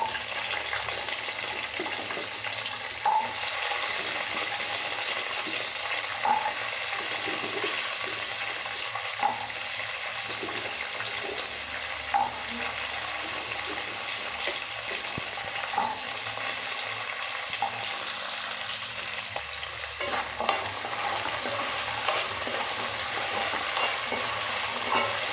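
Small shallots and green chillies sautéing in oil in a pan, a steady sizzle with soft rhythmic stirring clinks and scrapes repeating every few seconds, no talk.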